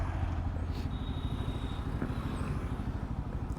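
Bajaj Pulsar N250 motorcycle, 2023 Dark Edition, running in low gear: a close, steady, pulsing engine drone that holds even throughout, with no talk.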